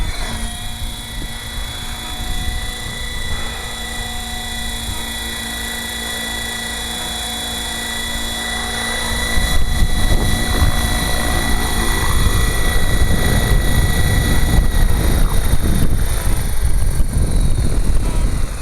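A Gaui X5 RC helicopter rotor on a 5S battery whirs steadily nearby with a high whine, then grows louder and rougher about halfway as it spins up.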